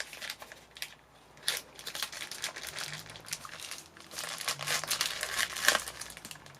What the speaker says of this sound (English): Chain opening ASMR.